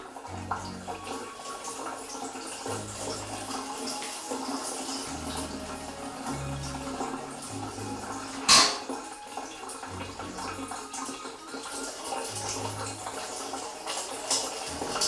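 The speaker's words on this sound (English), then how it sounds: "A lot of whey coming off it, which is what it's asking us to do." Whey drains steadily from fresh cheese curds for a Pyrénées-style cheese with green peppercorns, a continuous close trickle and patter of liquid with one brief sharper splash partway through and no talking.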